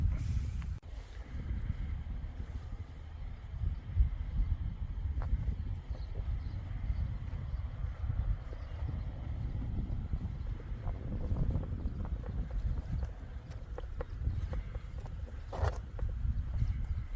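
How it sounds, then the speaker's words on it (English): Strong wind buffets the microphone on the open shingle beach at Dungeness, Kent, a constant low roar and rumble with gusty swells that fills the whole stretch, no talk. "Bloody windy."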